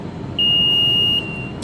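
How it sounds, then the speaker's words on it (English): A single sustained electronic beep, clear and close, lasting under a second over a low background hum, while a relay is tested. "Sorry for all the beeps."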